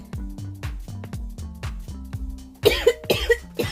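Several harsh coughs burst out close by in a quick cluster near the end, following a steady rhythmic low mechanical thumping.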